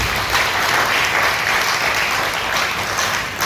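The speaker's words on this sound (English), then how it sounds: "please a round of applause for him" A university audience applauds for the Vice Chancellor, a full, steady roar of clapping from many hands that continues evenly throughout without pause.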